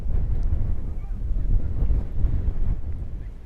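Strong wind gusts buffet the microphone at an outdoor amateur soccer match between NY Athletic Club and Richmond County FC, a steady low roaring rumble that swells and eases throughout.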